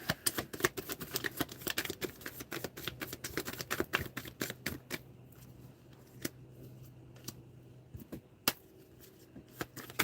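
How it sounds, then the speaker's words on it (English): A deck of tarot cards is shuffled by hand, giving a quiet run of rapid papery riffles and taps that thin out into a few soft, separate snaps. "Just want to shuffle this deck."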